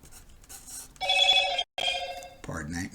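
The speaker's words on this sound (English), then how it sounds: "that was my phone" A mobile phone rings during a math lesson, with two bursts of a bright electronic ringtone separated by a short gap, followed by someone speaking.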